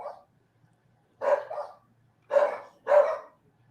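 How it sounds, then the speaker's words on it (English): Several dogs bark close by in a home: a short yap first, then three to four sharp barks in quick bursts, each followed by a brief pause, with no talk. "Sorry if you guys hear the barking of my dogs."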